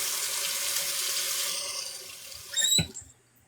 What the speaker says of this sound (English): Water my plant real quick.